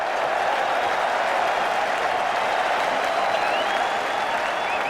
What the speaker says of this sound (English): the crowd helped them celebrate this quite spectacular moment